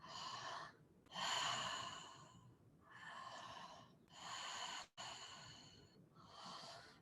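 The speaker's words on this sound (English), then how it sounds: "You're going to breathe in and out your mouth. You're going to make it a continuous breath." Continuous breathing in and out through the mouth, a close, breathy series of about six rushing inhales and exhales with only brief gaps, alone in a quiet room.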